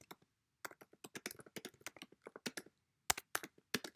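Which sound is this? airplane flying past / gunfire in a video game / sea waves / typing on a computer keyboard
typing on a computer keyboard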